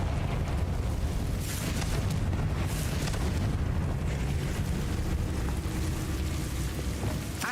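A Confringo explosion spell in Hogwarts Legacy on PS5, a loud, sustained rumbling blast with crackling debris that stays dense and roaring throughout, no voices.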